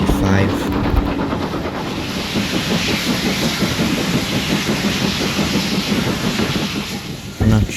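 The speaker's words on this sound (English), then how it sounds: "This is the first time all three locomotives have ran since" Steam locomotives at a Gwili railway gala, with three engines running together, produce a loud continuous hiss and rhythmic chuffing near the microphone, a steady wash of noise that ends in a short thump.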